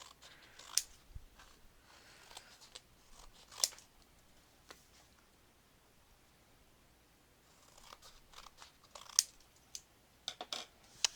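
Scissors snip paper corners for a mini album, faint, sparse crisp clicks and short cuts in small clusters separated by near silence, close by.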